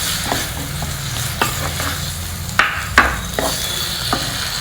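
Onions and a tomato fry and get stirred in a pan while cooking sambar rice: a steady close sizzle with several sharp scrapes and clinks of the spoon against the pan, and no talking.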